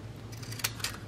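Small craft scissors snip a stamp shape out of paper, giving two quick crisp cuts close to the microphone in an otherwise quiet room.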